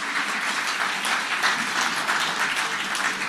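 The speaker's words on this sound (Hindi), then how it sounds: "एक बार फिर जोरदार तालियों के साथ स्वागत कीजिए" Studio audience at a televised News24 Manthan event breaking into loud applause to welcome a guest, a thick continuous roar of clapping close and sustained from start to finish.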